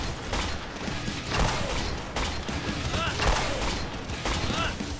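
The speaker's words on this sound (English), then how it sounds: "Explosion sounds!" Dense gunfire and bursts of explosions from the RWBY: Grimm Eclipse video game form a loud, continuous barrage of sharp cracks and thuds throughout.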